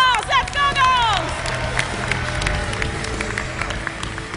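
A live crowd cheers and claps during a ShootMania Storm stage demo at E3 2012, a steady roar of applause and whoops with a few shouted voices over it.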